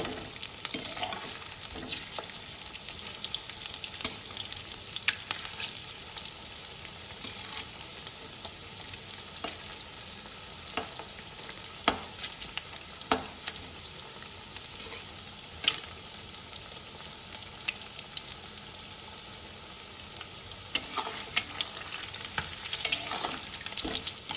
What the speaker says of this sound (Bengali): এরকম উল্টে পাল্টে ভাঁজগুলো ভেজে নেব